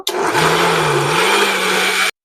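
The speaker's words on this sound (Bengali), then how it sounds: "দেখো মেশিনের মধ্যে বসালাম দিয়ে সবগুলোকে একসাথে বেটে নেব" An electric grinder whirs loudly for about two seconds as it grinds mango pieces, starting and stopping abruptly in a single steady burst.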